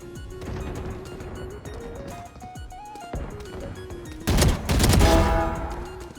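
Video game gunfire rattles in rapid bursts over a steady background drone of game music, building to a loud, dense fusillade near the end.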